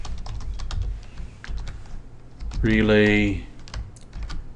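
Rapid keystrokes on a computer keyboard while programming a PLC, close and crisp, broken by a brief spoken word partway through.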